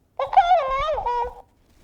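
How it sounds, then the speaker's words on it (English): A pet parrot lets out a single drawn-out, warbling call with wavering pitch, loud and close, lasting just over a second before falling silent. "He's a parrot and he likes to talk."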